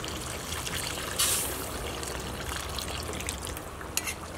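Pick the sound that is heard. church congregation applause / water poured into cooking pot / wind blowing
water poured into cooking pot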